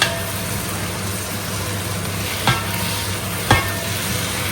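Brinjal curry being stirred in a frying pan: a steady sizzle under a low continuous hum, with two sharp scrapes or knocks of the spoon against the pan.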